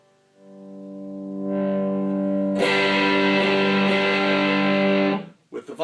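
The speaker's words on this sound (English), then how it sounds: "with the volume all the way down, I get the full distortion." An electric guitar chord rings through an amplifier set for distortion with a Morley Little Alligator, swelling in and then turning harsh and saturated partway through before cutting off near the end.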